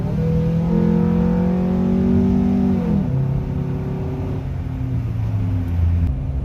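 A Nissan Altima with a QR25DE engine and bolt-on intake, exhaust and pulley mods revs hard on a kick down, the loud engine note climbing, dropping at a shift around midway, then climbing again, with no talk.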